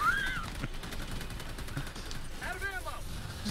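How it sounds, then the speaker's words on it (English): Rapid gunfire from the Helldivers 2 video game, a dense burst of shots under excited voices talking over it. "Just keep firing, Dad."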